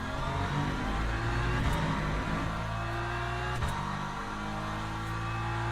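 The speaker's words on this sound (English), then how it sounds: "Got another hypercar coming through here." A Le Mans Ultimate hypercar races past in the sim, its engine a loud, sustained whine and roar that rises and falls as it goes by, over the steady drone of the player's own car.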